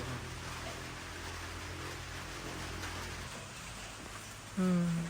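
Steady rain falls in a forest setting, a soft continuous hiss that holds throughout, with a brief louder, tonal burst near the end.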